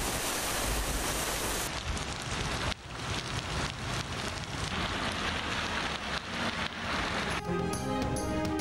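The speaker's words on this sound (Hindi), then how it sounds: "हैदराबाद में तेज हवाओं के साथ जोरदार बारिश।" Heavy rain driven by strong winds in Hyderabad, a dense, steady roar of downpour hissing and drumming on surfaces without letup, with no voices.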